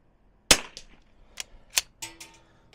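A single sharp, loud rifle shot cracks from a Zermatt Rim-X rifle fitted with a DPX bolt, fired at a target. Fainter clicks and rustling follow, with no speech.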